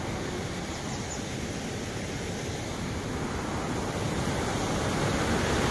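River water rushes strongly down a waterfall as a loud, unbroken roar that holds steady and swells slightly toward the end.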